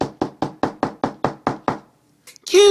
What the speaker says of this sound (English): she headed to the girls' room to wake them up before knocking on her son's door.